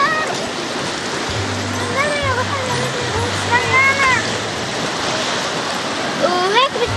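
Waves and rushing seawater wash steadily throughout, with people chattering over the surf and a low engine-like hum running underneath for a few seconds.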